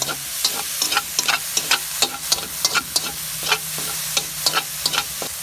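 Chicken being stirred in a hot pan, with a steady sizzle underneath regular spoon scrapes and knocks, about two to three per second, close and moderately loud, with no voices.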